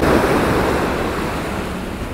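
Ocean waves break on a shoreline at sunrise, a loud, continuous rushing wash of surf that slowly eases as the water recedes, with no voices.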